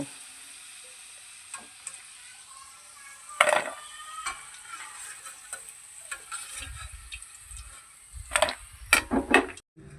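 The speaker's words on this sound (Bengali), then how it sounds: "তেল গরম হয়ে গেছে, এবার আমি পিঠেগুলো ভেজে নেব" Decorative flour pitha fry in hot soybean oil with a soft background sizzle, broken by sharper crackles and utensil knocks as pieces are turned, the bursts growing busier toward the end; no one speaks.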